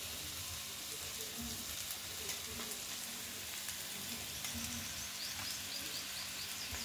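Soaked poha tipped into a kadhai for kanda poha, giving a steady low sizzle and crackle with faint stirring throughout, no voices.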